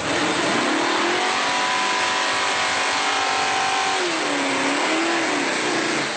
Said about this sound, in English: this car is loud and it actually has 4 mufflers underneath me here trying to dull the noise